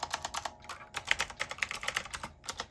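Typing on a retro typewriter-style keyboard connected to a Fire HD tablet, a quick, uneven run of close, crisp key clicks with short pauses, no voices.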